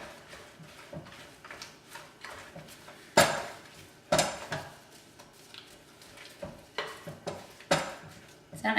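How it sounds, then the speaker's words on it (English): Chocolate chip cookie batter is mixed by hand in a bowl, with irregular knocks and scrapes of a utensil against the bowl. The strokes come in uneven bursts, some sharper and louder, against a quiet background. "I'm just gonna mix those 2 things by hand here"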